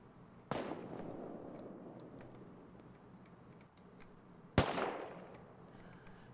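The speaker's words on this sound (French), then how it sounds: "Je crois aussi hein, ça tire en bas hein." Two sharp gunshots ring out some distance below in a video game, spaced about four seconds apart, each with a quick echoing tail over a quiet background.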